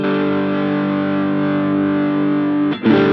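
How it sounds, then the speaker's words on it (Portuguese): An electric guitar sustains a thick, heavily distorted chord that rings steadily and loud, then is briefly choked and struck again near the end, with no talking. "Então eu vou ligar essa distorção que está no final aqui."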